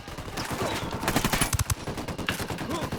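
Loud, close gunfire in Ghost Recon Wildlands comes as rapid rattling bursts over a noisy battle background, with the heaviest cluster of shots in the middle.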